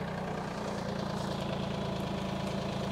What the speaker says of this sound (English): bring out the other tractor so we could pull, well, this iron rod,